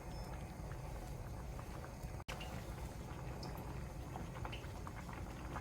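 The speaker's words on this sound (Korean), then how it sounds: "동태찌개가 어느 정도 끓었다 싶을 때" Korean pollock stew (dongtae-jjigae) bubbling in a pot, a soft, dense, continuous boil with a single brief break partway through and no voices.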